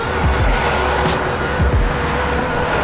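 Loud traffic noise of cars moving through a parking lot in New Jersey, engines and tire rush blending into a constant roar with a few passing swells.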